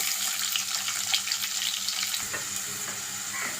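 Chopped onion sizzles in hot oil with curry leaves and dried chilli for a tempering, a loud, close, continuous hiss with occasional stirring scrapes and no voices.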